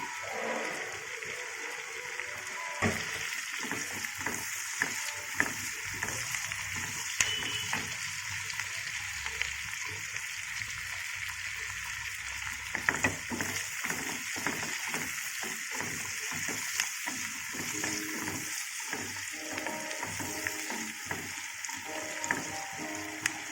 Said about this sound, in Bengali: এবার আমি দিয়ে দিচ্ছি রসুন কুচি আমি রসুন কুচিটা দিয়ে দিলাম